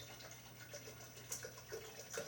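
Filtered water is poured for brewing kombucha tea, giving a quiet, steady trickle with faint splashes over a low background hum and no talk.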